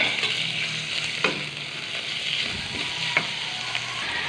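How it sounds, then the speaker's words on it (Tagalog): Ground beef sautéing in a frying pan for a dish with kangkong and alugbati, giving a steady close sizzle with a few scraping stirs of a utensil against the pan. "Gigisa ko po itong beef na giniling."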